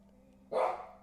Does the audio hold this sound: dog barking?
yes